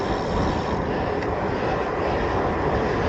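Continuous loud drone of a V-22 Osprey military aircraft flying overhead, an even engine roar with no pauses or voices.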